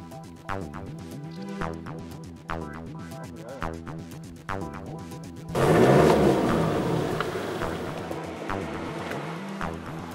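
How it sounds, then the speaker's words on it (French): A VW Golf 4Motion with standard 14 cm ground clearance driving onto a dirt road: an engine revving and shifting in rising bursts, then a sudden loud rush of tyres crunching over gravel and dirt, close by. "Nous lançons donc la Golf avec garde au sol standard de 14 cm sur le chemin de terre."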